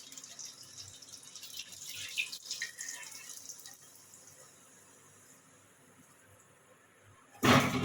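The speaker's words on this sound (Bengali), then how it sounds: "এইভাবে আমি সবগুলো ভেজে নেব।" Kachori filled with mung and masoor dal deep-fry in oil with a soft, steady sizzling hiss and faint crackles, ending in a sudden louder burst.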